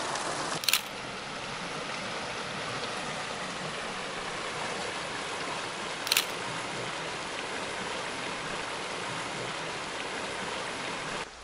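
Creek water flowing steadily over rocks, a continuous broadband rush that stays even and fairly close throughout, with two brief sharp clicks, at 0.7 and 6.2 seconds, standing out above the flow.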